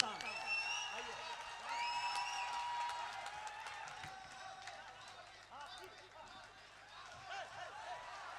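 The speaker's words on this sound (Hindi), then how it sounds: "जोरदार तालियों से इस्तकबाल करें" Audience applause at a mushaira in Nepal welcoming the poet Tehzeeb Hafi to the mic, a steady wash of clapping with some cheers and whoops, holding loud for several seconds then easing slightly, with voices mixed in.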